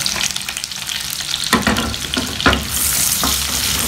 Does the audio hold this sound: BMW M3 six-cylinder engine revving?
no